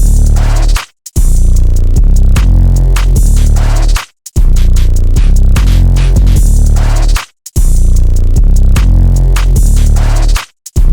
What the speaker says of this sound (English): So the drums all together sound like this.